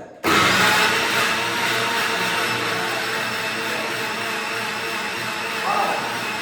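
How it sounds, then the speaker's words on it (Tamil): A new budget mixer grinder whirs steadily and loudly, a continuous motor drone with a rattling edge that starts abruptly and runs throughout. "மிக்ஸி ஆன்ல தான் இருக்குது."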